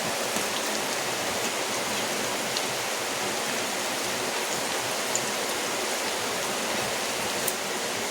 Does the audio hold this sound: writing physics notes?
no